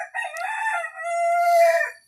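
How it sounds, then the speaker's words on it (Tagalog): A rooster crows once, loud and close, in a drawn-out two-part call that rises and then holds a long wavering note before cutting off. Nothing else is heard alongside it. "Ganun, talaak na yung manok."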